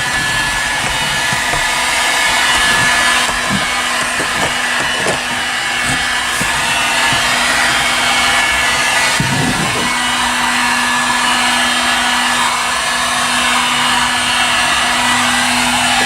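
A heat gun runs steadily while warming tar-based sound deadener inside a car, a loud continuous blowing hiss with a low hum throughout and a few scrapes and knocks along the way.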